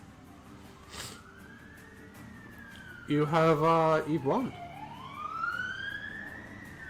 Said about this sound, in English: siren's going off, everything for you